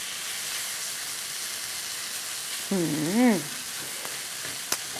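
Steady sizzling of rice being stir-fried with oil and preserved olive in a Korea Kind Dia pan, with a brief voice-like tone in the middle and a sharp clack of a utensil near the end.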